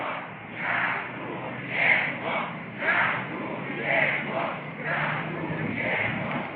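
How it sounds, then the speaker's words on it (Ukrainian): Large Euromaidan crowd in Kyiv shouting together in rhythmic bursts, roughly once a second, loud and massed at a distance with a steady murmur between the shouts. "Кожній людині, яка буде приходити на майдан, ми будемо гучно вигукувати. Дякуємо! Дякуємо!"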